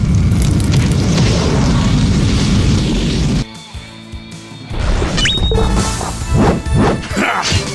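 Grandia 2 Anniversary Edition's Beast King Blast attack sets off a loud, roaring explosion that rumbles for a few seconds, drops away briefly, then returns as a series of heavy booming impacts and crackling bursts.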